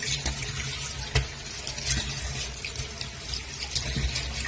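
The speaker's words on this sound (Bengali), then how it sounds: "চলো এগুলো ধুয়ে নিই ভালো করে" Raw shrimp rinsed under a running kitchen tap, a steady close hiss of flowing water with occasional splashes and clinks from the sink.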